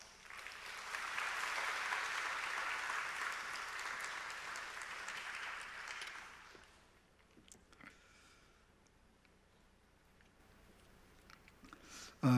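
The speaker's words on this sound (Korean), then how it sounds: "감사의 박수로 모시겠습니다." A church congregation at a Sunday worship service applauds to welcome a visiting preaching professor; the clapping sounds faint and distant, lasts about six seconds, then fades into a quiet room with small scattered noises.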